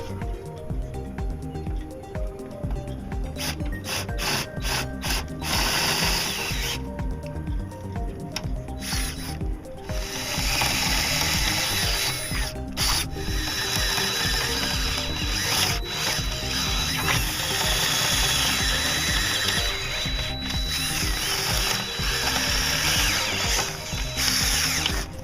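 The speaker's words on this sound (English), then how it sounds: "So we're going to drill these out" Steady rasping, grinding power-tool noise runs throughout with brief pauses and bursts, close and loud, drilling out metal rivets from a sailboat mast's goose-neck track.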